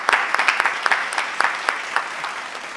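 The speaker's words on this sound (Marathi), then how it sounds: "एकदा रसिक प्रेक्षकांसाठी जोरदार टाळ्या झाल्या पाहिजे" An audience applauding at a Holi comedy and poetry gathering, a dense, steady clapping from a crowd heard close, with sharper individual claps standing out above the wash and no talk over it.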